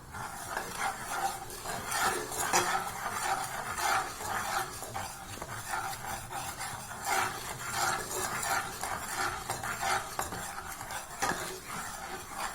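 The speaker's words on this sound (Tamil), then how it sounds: "நல்லா இந்த பச்சை வாசம் போக நல்லா கிண்டணுங்க, கட்டி போடாமல்." Gram flour batter is stirred in a pan over a low flame, with a steady scraping of spoon against metal repeating in rhythmic strokes and a faint sizzle underneath, close and moderately loud with no talking.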